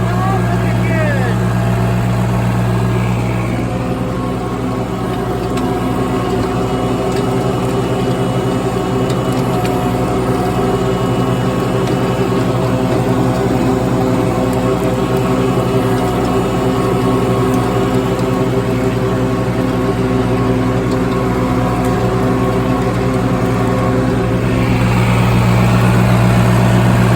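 A very large tractor pulling a tiller runs its engine under throttle, a loud, steady mechanical drone with strong low harmonics that holds constant for the whole stretch, with someone talking at times.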